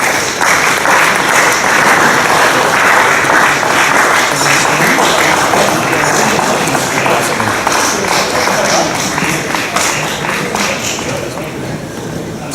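A cricket club crowd at a Hall of Fame night applauds loudly and continuously, a dense sustained roar of clapping that tapers slightly near the end, with some voices mixed in beneath.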